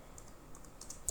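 Folder name typed on a computer keyboard, a few faint, light key clicks in quick succession over a soft background.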